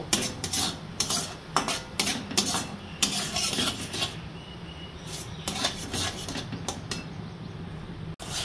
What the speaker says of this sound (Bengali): এটাও ভালো করে মিশিয়ে নেবো পেঁয়াজ আর আদার সঙ্গে, এটাও কষিয়ে নেব।